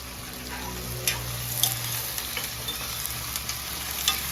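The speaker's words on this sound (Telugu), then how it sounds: "ఉల్లిపాయలు వేగిపోయినాయండి." Onions fry in a pan with a steady close sizzle, broken by occasional sharp ticks and pops as they are stirred, with no voices.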